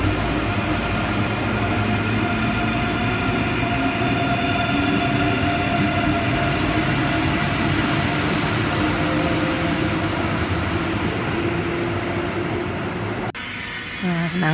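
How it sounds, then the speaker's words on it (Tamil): A high-speed German ICE train arrives at a station on its Frankfurt to Berlin route, a loud, sustained rumble and rush of wheels and carriages that drops away abruptly near the end. "நாங்கள் போக வேண்டிய ட்ரெயின் வந்துட்டுது."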